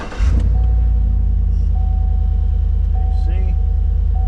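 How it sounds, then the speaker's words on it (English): A Chevy 1500 pickup engine starts with a brief burst and settles into a steady, loud idle rumble with the air conditioning running. A thin tone and faint clicks sit over the drone. "now we're gonna start the truck, turn the AC on, and get this thing rolling"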